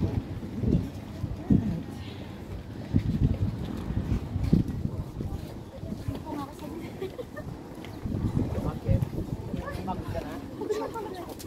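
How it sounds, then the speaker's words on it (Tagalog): Gusty wind on top of the Chocolate Hills in Bohol buffets the microphone with low rumbling bursts throughout, while voices talk faintly underneath. "Lakas ng hangin sa taas guys."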